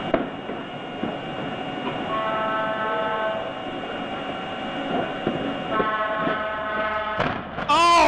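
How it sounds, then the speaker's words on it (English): A loud train horn blares in sustained bursts amid rumbling rail noise, recorded from the front of an arriving train in the moments before a collision, ending in a sharp burst of noise at impact. "Brief footage from the arriving train shows the moment of impact."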